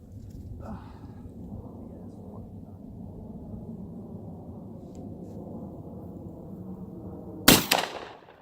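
A Thompson Contender rifle in 45-70 fires a single loud, sharp shot outdoors on a freezing day, with a short rolling echo behind it, coming near the end after a stretch of low background noise.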